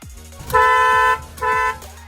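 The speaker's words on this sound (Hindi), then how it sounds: "डुअल हॉर्न है।" A Kia Sonet X-Line sounds its dual horn in two close, loud honks, the first longer than the second, with no talking.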